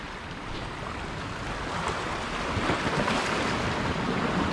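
Ocean waves surge and wash against a rocky shore lined with big boulders, a loud continuous roar with gusting wind noise on the microphone that swells toward the end.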